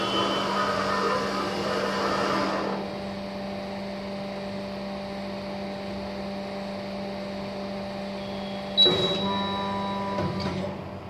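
A Franklin tester's hydraulic unit raises the head and builds pressure with a steady electrical hum and whine that drops in level after a few seconds, then a clunk and brief mechanical rattle near the end.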